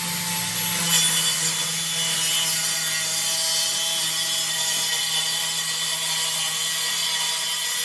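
A wooden board is hand-sawn to trim a custom shelf, with a steady continuous rasping stroke that sounds close and loud and goes on without a break and without speech.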